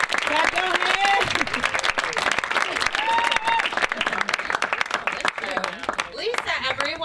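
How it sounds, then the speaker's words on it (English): Audience at a New York comedy show clapping and cheering for a comedian, dense sustained applause with whoops and shouts from the crowd, loud and close, while a voice talks over the noise. "Clap your hands for Laura Howe!"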